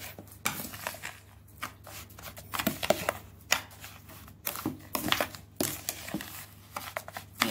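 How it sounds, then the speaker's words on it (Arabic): Ingredients for Alexandrian Hegazia, a bread-based sweet with cinnamon, being mixed in a bowl, with irregular scraping, rustling and clinking strokes that come in short bursts amid brief quiet gaps. "نقلب كده المكونات دي مع بعض"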